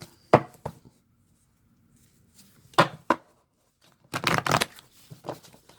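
A tarot deck holding two copies of each major arcana card is shuffled by hand, giving short, close riffling bursts separated by quiet pauses, with a longer flurry of shuffling near the end.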